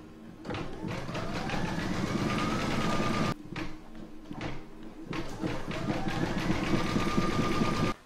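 A close embroidery machine stitches blue thread on an in-the-hoop mug rug, with a fast, steady mechanical chatter and a rising whir. It pauses briefly near the middle, then resumes at the same pace.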